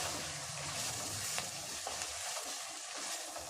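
Tomatoes and onions sautéing with rock salt in a pan for sambar, a steady crackling sizzle with a couple of sharp spatula taps against the pan, close and even.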